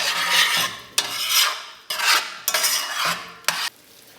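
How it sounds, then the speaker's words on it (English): A spoon scrapes and stirs tomato paste into a pot of carrot stew with tomatoes, giving repeated rasping strokes roughly every half second with sharp clinks against the pot, close and alone. "Going to give this a quick stir."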